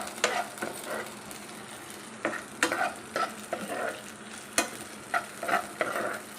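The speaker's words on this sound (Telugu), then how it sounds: "వేసుకొని బాగా ఫ్రై చేయాలి" Peeled garlic cloves, about ten of them, frying in oil in a pan, with steady sizzling broken by repeated spoon scrapes and stirring knocks at an irregular rhythm, close and moderately loud, no voices.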